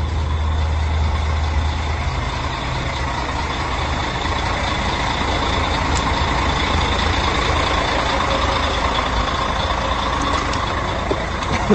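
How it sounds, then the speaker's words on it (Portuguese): A truck engine runs steadily in a roadside queue on a mountain road after an accident, its air-conditioning compressor straining hot; a constant loud idle rumble and hum with no talk. "O caminhão dele tá derretendo o compressor do ar-condicionado"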